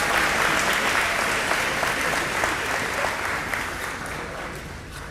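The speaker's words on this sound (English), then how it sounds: "Let's give this team one more round of applause for representing this school." A school athletic banquet audience gives a team a sustained round of applause: dense, even clapping from many hands that fills the room, then eases off slightly toward the end.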